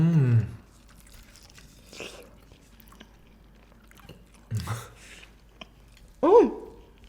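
Crunchy Zaxby's fried chicken being chewed up close: a few distinct crunching bites separated by quiet pauses, with a brief vocal sound at the start.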